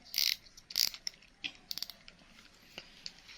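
A budget fishing reel's mechanism clicks and whirs in short bursts of sharp ratcheting ticks, close and fairly quiet, with gaps between turns and no talk.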